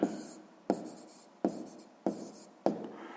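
Chalk or pen writing out a sixth-grade math solution, five sharp strokes at a steady rhythm, each a bright scratchy onset that trails off, close and clear with no talking.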